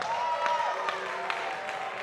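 Crowd applause at a Florida A&M University Symphonic Band concert honoring Mr. Sargent, a steady, fairly soft wash of clapping from a distant audience with a sustained tone beneath it.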